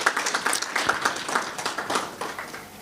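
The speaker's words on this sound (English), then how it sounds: "Let's give POSB a big round of applause." An audience at a business seminar on small and medium enterprises gives a round of applause, dense rapid clapping from many hands, fairly close and even in level for a couple of seconds.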